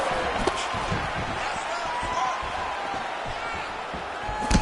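A hook lands in the third and final round of a fighting event, heard as a brief thud buried under loud, steady crowd roar and a commentator's excited talk.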